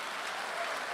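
Audience applause, a dense steady wash of clapping from a crowd, brief and continuous.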